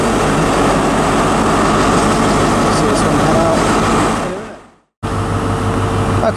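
Great Western Railway train led by power car 43161 departing Plymouth, a loud sustained diesel engine roar close by that fades out, breaks off briefly, then resumes as a steady hum.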